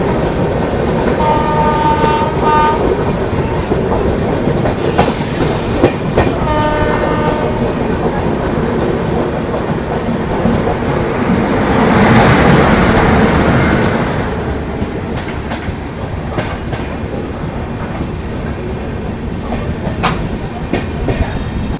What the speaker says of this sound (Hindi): बस अभी डिपार्चर हुआ है, ट्रेन जस्ट चली है